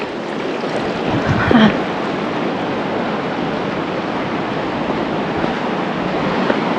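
River stream water rushing during a crossing in Ladakh's Nubra Valley to Pangong area, a constant broad close-up roar of flowing water with a brief voice and a splash-like burst early on.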